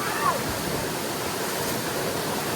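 Steady rushing of spring water pouring down Tabi Falls, a broadband roar that stays constant and fairly close for the whole stretch, with no talk over it.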